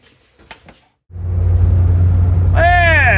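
A 1984 Toyota Tercel SR5 with manual steering drives along, its engine starting up loud and steady with a low rumble after a brief quiet moment, and a rising whine joining near the end.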